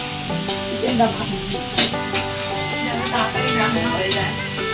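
Food sizzling and frying in pans on two cooking spots at once, a steady loud crackling hiss with occasional stirring scrapes, while a voice talks briefly underneath.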